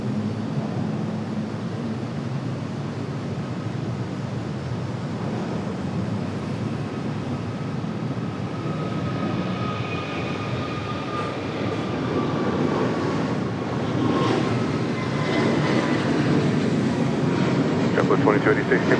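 An Aer Lingus Airbus A321XLR jet airliner rolls at Raleigh-Durham International Airport. Its broad engine roar holds steady and swells toward the end, with a faint rising whine, under background speech.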